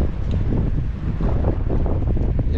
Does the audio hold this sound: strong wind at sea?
yes